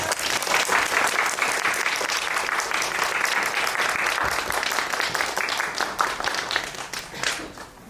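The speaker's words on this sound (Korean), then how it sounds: "감독님과 두 분의 주연 배우들 오셨으니 큰 박수로 맞이해 주시기 바랍니다." Sustained, dense applause from a large cinema audience welcoming a film director and two lead actors on stage, continuous and close for the whole span without any speech over it.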